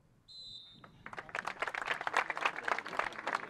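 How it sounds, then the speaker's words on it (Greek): A referee's whistle shrills briefly, then a crowd at a football match in Heraklion breaks into sustained clapping in memory of a late footballer, the applause swelling and holding steady. "Χειροκρότημα για τον Βασίλη"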